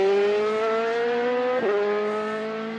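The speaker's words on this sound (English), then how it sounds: "Is that the hum of a car engine?" Steady engine hum from a kart in the Mario Kart 8 video game, a loud continuous droning tone with a brief pitch dip partway through, heard alone without talk.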